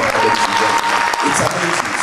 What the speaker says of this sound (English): A bigger round of applause for the DG.